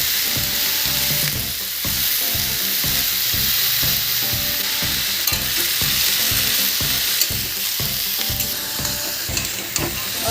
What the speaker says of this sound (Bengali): আমি শশাটাকে ভালো করে কষিয়ে নিচ্ছি নুন আর হলুদ দিয়ে